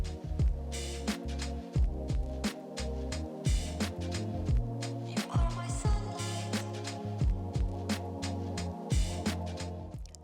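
Sewing machine top stitching a fabric balaclava ski mask, heard as a steady mechanical hum with rapid repeated needle thumps in short runs and brief pauses, close and alone without talk.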